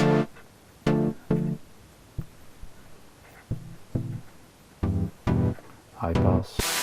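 Short notes from a Modor NF-1 digital synthesizer played one after another through its 12 dB multimode filter, tone shifting from bright to muffled and hollow as the filter changes mode, with gaps between them.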